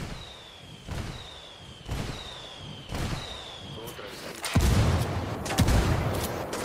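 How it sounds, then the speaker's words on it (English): Mortar fire in a video game: a run of sharp launch thumps at roughly one-second intervals, each with a rising whistle, followed by heavier, louder rumbling impacts and crackling blasts near the end. "Copy. Mortars away."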